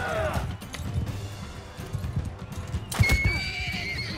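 In the Mount & Blade 2 Bannerlord video game, a horse struck in battle lets out loud whinnies amid clattering hooves and combat clashes, with a sharp impact and a second neigh near the end.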